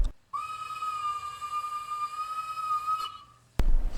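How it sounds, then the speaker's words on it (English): A steam locomotive's teapot whistle in a train simulator video game, quilled into one long sustained chime lasting about three seconds, fairly loud and clear, then cut off before a sharp noisy burst. "it is actually a teapot whistle like the L and the R locos"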